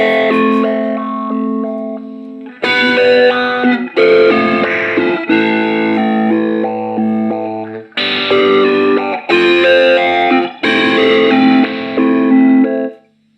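Distorted electric guitar chords through a Zoom 505 step filter effect, chopped rhythmically, the tone jumping in pulses across several loud strummed phrases.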